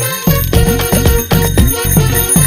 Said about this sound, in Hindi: हाँ, घंटी भी बजती है, क्या बात है?